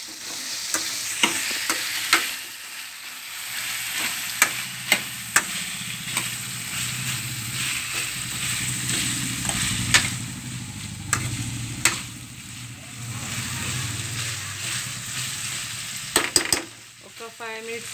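Potato pieces tossed with wilted fenugreek leaves in a hot pan for a Telugu curry, with steady oil sizzle and repeated clear scrapes and clinks of a spoon stirring against the pan.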